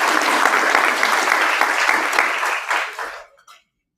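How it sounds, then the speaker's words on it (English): A conference audience gives panelists a round of applause: dense, steady clapping from a crowd filling a hall at full volume, fading out over the last second into silence. "Please give our panelists a round of applause."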